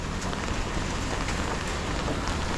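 Steady rain falls on a city street in Macau's alleys near the Grand Lisboa, a dense, even hiss of drops spattering the pavement, loud and close with no talk.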